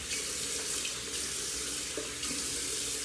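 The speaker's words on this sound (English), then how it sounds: "Then you use cold water to close up the pores." Cold water pours steadily from a bathroom sink tap during a shaving routine, a continuous close hiss and splash with small shifts in flow.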